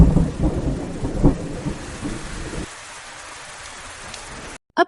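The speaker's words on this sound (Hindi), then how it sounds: "रहस्यमय ढंग से आकाश में भयानक बिजली कड़कने लगी और तेज बारिश होने लगी" Loud thunder rumbling over steady heavy rain, dense and close for the first half, then dropping to a quieter rain wash with one brief sharp crack near the end.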